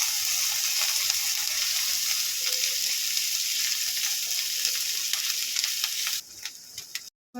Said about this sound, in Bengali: আদা রসুন পেস্ট করে নিয়েছি দিয়ে দেব অল্প করে একটু পাঁচ ফোড়ন দিয়ে দেব দিয়ে সবগুলো একসঙ্গে ভেজে নেব